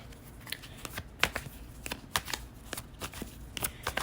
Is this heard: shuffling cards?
yes